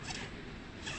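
A medium-sized zipper bag is unzipped in one short, continuous rasping pull, quiet and close.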